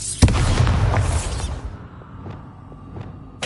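A Bombarda blasting spell goes off in Hogwarts Legacy, one loud booming explosion that hits suddenly, rumbles and fades, followed by a few faint metallic pings and a fresh burst at the very end.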